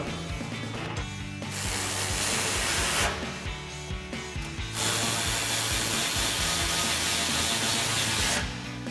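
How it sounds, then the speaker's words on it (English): A ratchet with a 10mm socket tightens exhaust bolts on an EcoBoost F-150. It gives loud, close, continuous rapid clicking in long bursts, with short pauses between them. "tighten this down with our 10mm socket"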